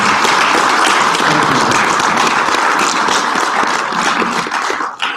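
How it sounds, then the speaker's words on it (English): An audience at a finance speakers' event gives a sustained, loud round of applause for a panel, the dense clapping holding steady before thinning out near the end. "would you please offer a round of applause for our wonderful panel"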